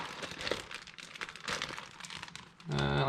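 A plastic bag holding corals is punctured and opened, giving close, crinkly crumpling and rustling in irregular bursts, followed by a short burst of louder handling at the end.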